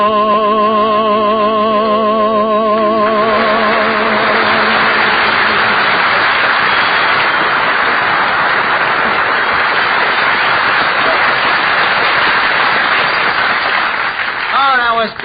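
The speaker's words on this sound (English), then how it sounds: "Eddie, did you hear that clapping? They loved the kid." An audience claps hard for a kid performer, a loud dense burst of applause that follows the end of a sung song and carries on steadily for over ten seconds.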